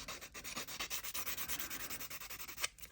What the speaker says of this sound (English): we'll give those edges a sand down